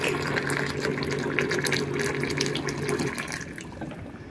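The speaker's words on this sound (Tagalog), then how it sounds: "Lagyan po natin siya ng mainit na tubig." Hot water is poured onto fresh butterfly pea flowers to make tea, a steady close splashing gush that runs for about three seconds before thinning out.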